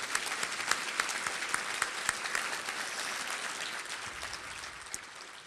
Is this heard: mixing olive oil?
no